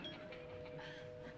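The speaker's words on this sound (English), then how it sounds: "answer the doorbell" A doorbell rings in a sitcom home during a card game, one sustained electronic tone held steadily across the moment with room noise beneath and no talk.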